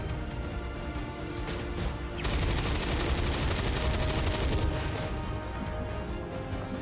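Rapid gunfire aimed at a psionic device in the strategy game XCOM 2 with the Long War of the Chosen mod: a dense, sustained burst of crackling automatic shots that intensifies midway, then eases back under steady battle noise.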